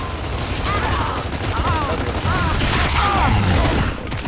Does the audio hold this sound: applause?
no